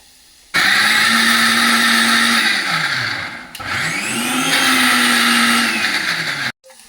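A mixer grinder grinding boiled soya chunks for cutlets: a loud, close electric whine runs nearly continuously, dips briefly in pitch midway, then cuts off abruptly at the end.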